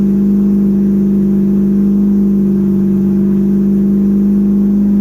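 A 12A turbo rotary engine in a Datsun 1200 idles at about 1400 RPM, giving a loud, steady, even drone heard up close with no speech.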